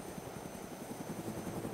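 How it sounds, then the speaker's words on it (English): Helicopter rotor in the DayZ mod for Arma 2 chops at a steady, fast beat under a dense, constant drone with a thin high whine, continuous and moderately loud throughout, with no voices. "A helicopter and a full geared team."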